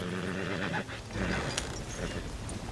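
A horse neighing in Red Dead Redemption 2, close and loud, a drawn-out whinny followed by snorting and breathy panting.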